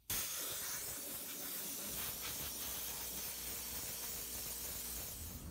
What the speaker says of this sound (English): we're going to air hose it out here, and here's the sprayer